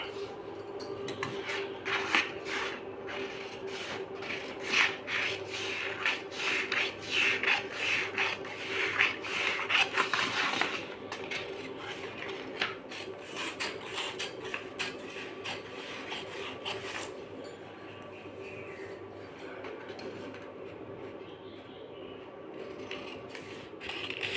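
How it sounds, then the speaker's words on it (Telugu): Scissors cut out a sewing pattern for a front bodice piece with a shoulder-to-waist dart, making a long run of rapid, rhythmic close snipping and rustling over a low steady hum, easing off toward the end. "సో ఇప్పుడు దీని అంతటిని కూడా మనం కటింగ్ చేసేద్దాం."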